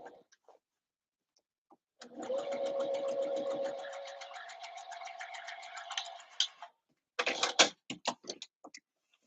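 A sewing machine runs in a rapid, even stitching rattle for several seconds, pauses, then starts again in short bursts while sewing a layer onto a Christmas dress in a home studio.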